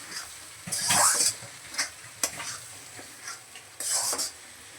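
Food is stirred continuously in a kadhai (wok), with short bursts of metal scraping and a soft hiss coming in uneven strokes close by.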